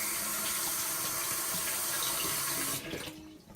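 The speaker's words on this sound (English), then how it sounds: "So let me wash off my hand." Running tap water splashes over hands at a kitchen sink in the middle of baking banana muffins, a steady broadband rush for nearly three seconds that then cuts off abruptly, leaving faint drips and room noise.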